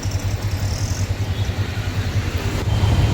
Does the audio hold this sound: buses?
yes